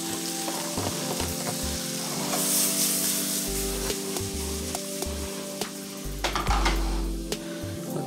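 Vegetables sauté in a hot pan with a steady close-up sizzle, interrupted by scraping and clinking as they are stirred, alongside a low background hum.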